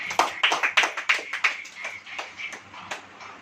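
A church congregation claps along at a Hindi-language sermon, a quick run of sharp hand claps that starts strong and then thins into scattered, softer claps.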